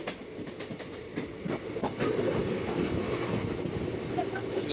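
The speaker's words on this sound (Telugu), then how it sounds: "చూడండి ఈ గూడ్స్ బండ్లు ఇవి. గూడ్స్ ట్రైన్కు బోగీలు" Goods train wagons roll past close by in a steady, loud rumble with repeated clacks of wheels over rail joints.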